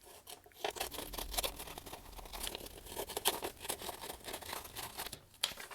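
Paper being cut by hand for a fall folio tag, a quiet run of rapid crisp snips and rustling paper, close up, with no voice.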